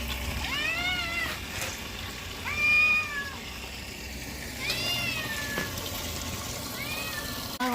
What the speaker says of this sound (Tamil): இந்த பூனை வேற என்னை விட மாட்டுது.